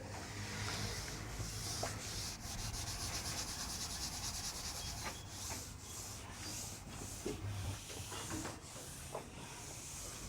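Duster rubbing across a classroom board, a steady dry scrubbing and hissing with repeated strokes throughout, fairly close and continuous with no talk.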